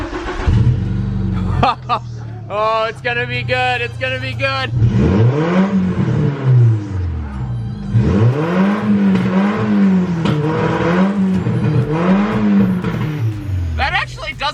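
A VW Beetle engine with a large exhaust leak revs repeatedly with a rough, blatty exhaust note, loud and close, while someone talks briefly over it.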